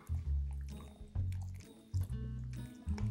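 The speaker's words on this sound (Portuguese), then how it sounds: "A gente vai começar misturando aqui com a água" Yeast being stirred into room-temperature water for a vegan, gluten-free sweet pizza dough makes wet, squishy sloshing strokes that repeat in four close, rhythmic bursts with no talking.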